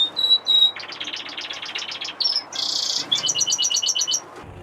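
Fife canaries and finches in an aviary flight give bright, rapid chirps and short twittering bursts one after another, close and clear over a quiet background.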